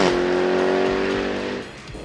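A 600 hp all-wheel-drive sports car on a handling circuit at L'Anneau du Rhin, loud, close engine drone holding a steady pitch with possible tire squeal, then tapering off as it moves away.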